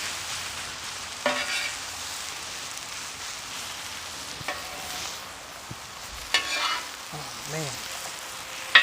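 Breakfast fries on a flat top grill over a dying campfire, giving a soft continuous sizzle with occasional small pops and scrapes, and someone briefly says a word.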